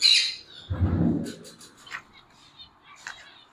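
Ino butterfly lovebirds give sharp squawks and chirps, close and loud at the start and then in shorter scattered calls, with a brief low rustle or thump in between.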